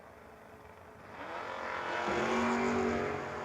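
A 2012 fifth-generation Chevrolet Camaro and a third-generation Camaro launch in a No-Box 660 drag race, engine roar swelling from moderate to loud over a few seconds with a rising whine.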